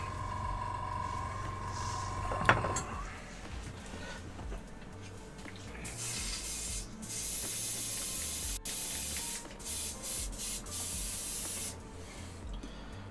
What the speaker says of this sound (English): Quick clean through the airbrush.